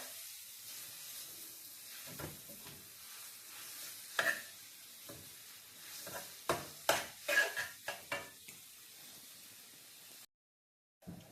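A spoon stirs radish with fish roe in a frying pan, giving a soft, low sizzle broken by a cluster of sharp clacks and scrapes of metal on the pan, fairly close and without speech.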